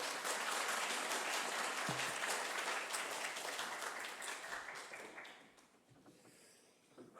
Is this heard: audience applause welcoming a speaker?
yes